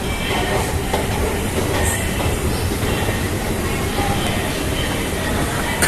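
A Jakarta MRT train runs through the underground line, a loud, constant rumble of wheels and carriage noise that fills the whole stretch without a break.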